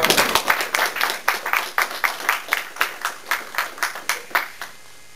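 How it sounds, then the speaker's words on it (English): A small audience at a county sheriff candidates' forum gives a round of applause: a steady run of evenly spaced, distinct claps at a moderate level that stops shortly before the end. "Can we give them a nice round of applause, please"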